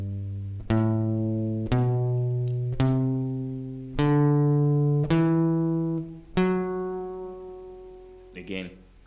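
Single guitar notes picked one at a time up a scale as part of a chord progression lesson, six clear plucked tones each ringing out before the next, ending on a softer open string.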